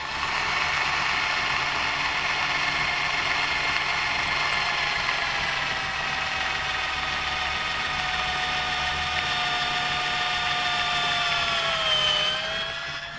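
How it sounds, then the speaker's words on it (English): Power drill boring holes through large tiles during a tile repair, a steady close whine that holds for the whole stretch and then dips in pitch near the end as it slows. "We drill a couple of holes."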